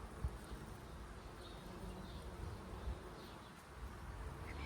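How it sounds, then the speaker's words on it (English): A whole bush humming with busy insects, heard outdoors as a faint, steady, low buzz with no talking over it. "The whole bush buzzes."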